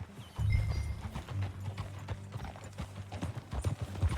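A horse in Red Dead Redemption II clip-clops along at a steady gait. The hoofbeats are close and rhythmic, mixed with a low snort or whinny and faint game ambience.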